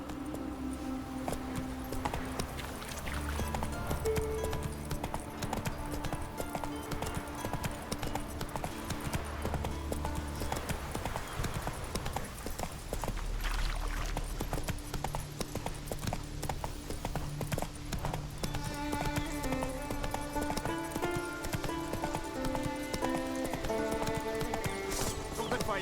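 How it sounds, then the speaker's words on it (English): Horse hooves clip-clop steadily in The Witcher 3 video game, a continuous rhythmic trot under game music, with an occasional whinny. "Whoa there, Roach."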